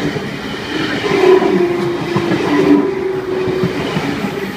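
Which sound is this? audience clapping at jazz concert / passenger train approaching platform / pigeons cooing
passenger train approaching platform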